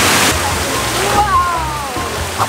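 Water rushes and splashes steadily at a large splash park at an all-inclusive resort in Cancun, a loud continuous spray with sloshing, while a voice speaks faintly over it.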